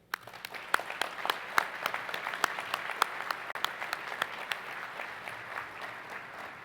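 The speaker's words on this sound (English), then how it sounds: "Please join us in giving all these organizations a round of applause for" Audience applause at an HBCU engineering deans' breakfast, moderate and fairly distant, with sharp individual claps standing out over a steady patter that continues throughout.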